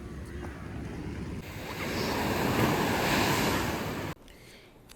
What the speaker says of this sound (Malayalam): എന്ത് രസമാണ് ഇങ്ങനെ തിരമാലകൾ ഇങ്ങനെ വന്നുകൊണ്ടിരിക്കുന്ന കാണാൻ